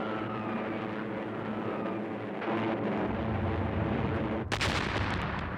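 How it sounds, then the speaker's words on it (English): Rumbling airstrike explosions during a Japanese World War II assault, a dense, continuous low roar with a sharp, loud burst near the end. "It was supported by more airstrikes."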